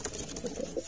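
A pigeon coos softly inside its coop, brief low murmuring calls close by over light background noise.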